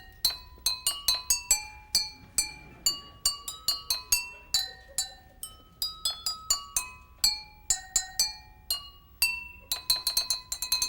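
Glass laboratory beakers clink out a quick, tuned Christmas carol melody, bright ringing taps in a steady stream of notes, close and clear with no talking.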